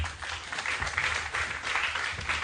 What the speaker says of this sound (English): So please let's keep clapping as they take their seats.